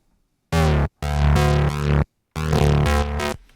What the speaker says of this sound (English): Diode 2 with the drive at 73 and the mix at 59.